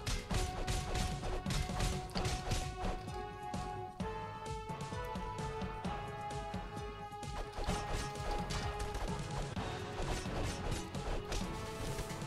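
Heavy repeated crashing blows against a castle door in a video game, continuous loud thwacks and impacts blended with busy battle din and game music.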